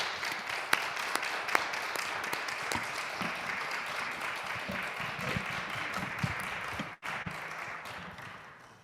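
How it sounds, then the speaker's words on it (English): Audience applause for the panelists at a racial justice panel discussion, fairly faint and thin, with separate sharp hand claps standing out over a soft patter and a brief drop near the end. "Big round of applause for the panelists."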